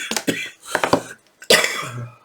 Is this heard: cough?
yes